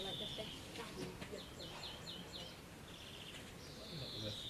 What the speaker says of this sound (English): That's a green finch.